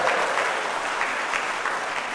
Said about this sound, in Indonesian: Tepuk tangan saja kasih bapak-bapak ini.